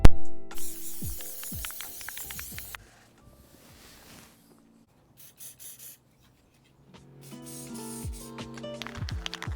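Hardwood interior varnish sprayed from a can onto rings cut from upcycled skateboards, in a few loud hissing bursts that stop for a quiet stretch and then start again.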